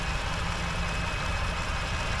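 A 2019 Ford F-150 SuperCrew pickup with an EcoBoost engine idles smoothly, giving a steady, low rumble close up with no voices over it.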